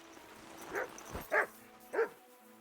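A dog in a video game gives three short, evenly spaced barks or yips, moderately close over a quiet background.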